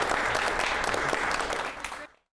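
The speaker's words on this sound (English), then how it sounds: "Let's have a round of applause for Chris Barfoot and his Humpy Dumpy." An audience applauds in a brief burst of dense clapping that stops abruptly after about two seconds.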